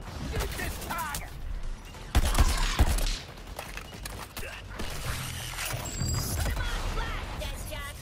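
Gunfire aimed at a target in a video game, a dense scattering of crackling shots with a couple of louder bursts near the middle, running under busy game sounds throughout.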